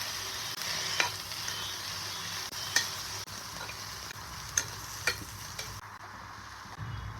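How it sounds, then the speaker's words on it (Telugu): A cabbage mixture fries in a pan, giving a soft steady sizzle with occasional sharp clicks and taps of a stirring utensil scattered throughout, and no talking. "అన్నీ కలిపి పచ్చి వాసన పోయే వరకు వేయించుకోవాలండి"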